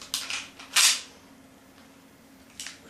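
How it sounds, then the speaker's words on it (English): A WE 1911 full-metal gas blowback airsoft pistol takes its magazine with a few crisp metallic clicks, one louder snap in the middle, heard close against a faint steady hum. "The magazines are nice, and they do slot into the gun with a very nice click."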